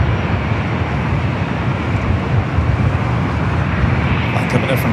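A Condor Airbus A330neo in beige beach livery, arriving from Frankfurt, lands at Los Angeles LAX with a loud, steady broadband jet roar that holds without a break, nearby and strong throughout.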